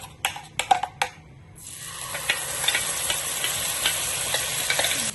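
Ground spice paste dropped into a hot pan with a little shallot oil: a few sharp clicks, then a steady close sizzle and hiss that keeps going to the end, with no voices.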